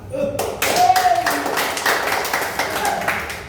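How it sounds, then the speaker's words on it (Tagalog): Applause from a group at a welding (SMAW NC II) assessment congratulations, a dense burst of clapping that runs steadily throughout with people talking over it. "Palakpak"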